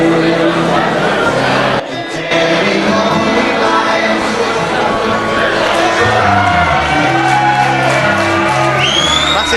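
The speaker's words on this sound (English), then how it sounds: "Massive cheer for Sam there." Arena crowd cheering and whooping for fighter Sam Spencer at a Controlled Aggression fight night, a loud sustained roar of shouts and cheers with voices talking underneath.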